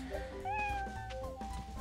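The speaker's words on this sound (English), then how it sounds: "There goes the dice hitting my cat again." Cartoon cat meowing in the Monopoly Plus video game as the dice strike it, a clear, close mew with rising and falling pitch over a steady background of game music.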